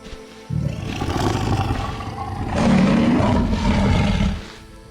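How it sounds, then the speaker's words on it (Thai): Deep tiger growls and roars, a throaty snarl building to a sustained loud roar that then fades, heard alone with no talking. "ความเงียบสงัดถูกทำลายลงอีกครั้งด้วยเสียงฝีเท้าหนักๆและเสียงขู่คำรามในลำคอที่ย้อนกลับมา"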